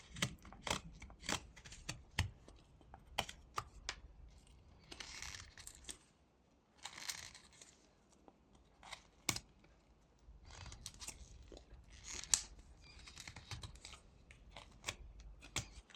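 A whittling knife cuts a stop cut into a small wooden pig carving, giving quiet, close, crisp clicks and scraping slices in irregular bursts, with short pauses between strokes.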